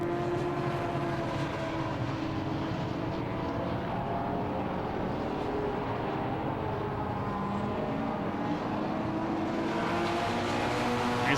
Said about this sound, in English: Tony Paxman and Kevin Denwood side by side. Mark 1 Escorts versus BMW E46 Compact.